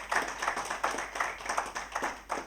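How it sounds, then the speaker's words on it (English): A small audience applauds a panel after a discussion on political party coalitions, a modest, fairly quiet patter of clapping with loose rhythmic pulses. "Please do give them a round of applause."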